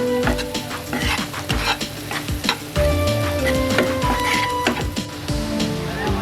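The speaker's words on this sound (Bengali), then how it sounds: "এটাকে আমি হালকা লাইট গোল্ডেন কালার করে একটু ভেজে নিব" Finely diced onions fry in a pan toward a light golden color for a pink sauce pasta, with steady sizzling broken by frequent stirring scrapes and clinks of a utensil against the cookware, close and fairly loud.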